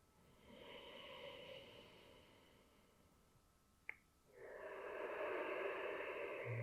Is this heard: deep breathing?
yes